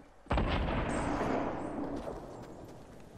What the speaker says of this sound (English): Yeah, they're shooting at you, mate. From that mountain top.